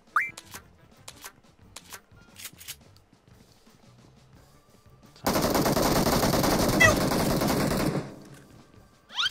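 Sustained automatic gunfire in the battle royale game PUBG, a loud, unbroken rattling burst lasting roughly three seconds after a stretch of faint clicks and quiet ambience.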